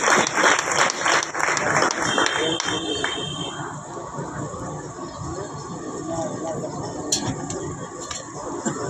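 Audience clapping at a protest rally by blind graduate disabled people demanding jobs, loud and sustained at first and then thinning into a steady lower patter of hands.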